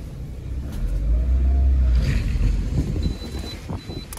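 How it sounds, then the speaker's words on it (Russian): A Lada Granta engine rumbles close by, rising and falling as the car moves, with some wind buffeting the microphone. "Автомобиль едет."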